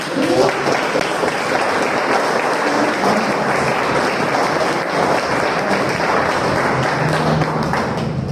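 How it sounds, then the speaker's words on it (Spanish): Loud, sustained audience applause at a book presentation on dance in Nayarit, dense clapping filling the room evenly from start to finish with no talk over it. "Hay que darle un aplauso."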